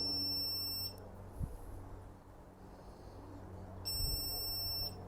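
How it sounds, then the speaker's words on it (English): Begode Extreme electric unicycle emitting high-pitched electronic beeps during a firmware update: a sustained beep tone near the start, a quiet gap with faint noise, then another long beep, heard up close with no speech. "So when you update, you hear the beeping noise there."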